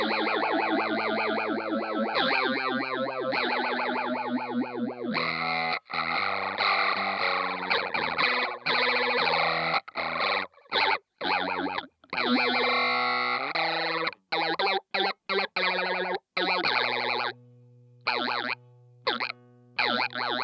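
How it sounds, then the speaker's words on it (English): Electric guitar through a heavily gated fuzz effect, buzzing sustained notes and choppy stabs that cut in and out, loud with no talking. "The fuzz sounds really cool on this, actually."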